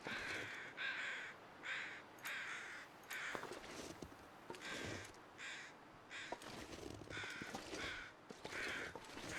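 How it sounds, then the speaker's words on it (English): Several crows caw in repeated harsh bursts over a faint steady outdoor ambience in the survival video game The Long Dark. The calls are fairly distant and come in irregular groups. "I can hear crows."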